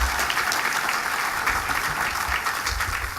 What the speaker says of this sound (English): Nice to have all my employees applauding for me.